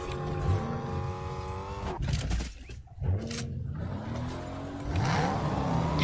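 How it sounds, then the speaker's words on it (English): A car chase in Fortnite Zero Build, with a game car's engine revving and changing pitch. A brief drop near the middle sounds like a skid or gear change before the engine climbs again, fairly quiet overall. "Yes, we're on a car chase."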